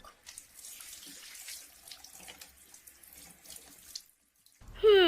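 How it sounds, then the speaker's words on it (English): A tap runs steadily into a sink while hands are washed for wudu, a continuous splashing flow that cuts out near the end, followed by a brief different sound. "Then you wash your hands 3 times."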